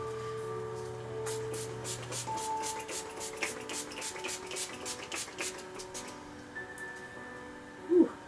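Rapid, sputtering bursts of a makeup setting spray pump fire in a quick uneven series, close by, then trail off into quiet.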